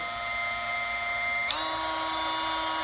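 Dremel Lite 7760 cordless rotary tool running steadily with a high whine and dense harmonics, its pitch stepping up partway through as the speed setting changes, with no voices.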